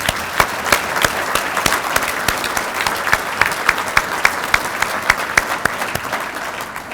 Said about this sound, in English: Now, round of applause for our partner.